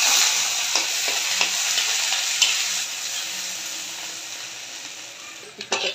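Onions fry in hot mustard oil in a heated pan, giving a continuous close sizzle with scattered crackles and a few scraping stirs, with a louder clatter near the end.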